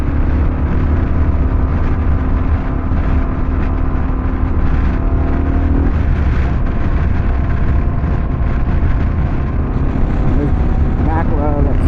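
Kawasaki KLR650 dual-sport motorcycle cruising at normal speed on Shinko 244 tires, a steady, loud engine drone with constant wind rush that stays unbroken throughout, while a voice talks over it.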